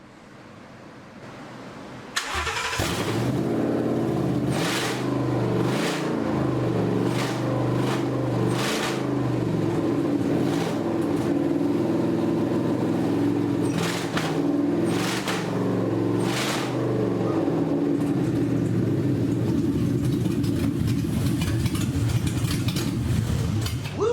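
A 1971 Ford truck's large engine cranks and catches, then settles into a loud, rough, rumbling idle with repeated revs, close by and continuing throughout.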